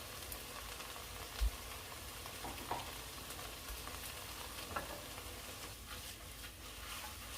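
Tomato paste being stirred into a pot of pasta fagioli over heat, a soft steady sizzle with occasional faint scrapes and one brief knock of the spoon, quiet and continuous with no talking.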